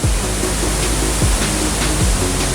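A monsoon waterfall in Jharkhand roars with loud, continuous broadband rushing water that stays steady and close, with no voices.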